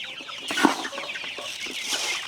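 Pullets cluck and murmur in a pen, several close, soft overlapping clucks with a couple of sharper calls, moderately quiet and continuous.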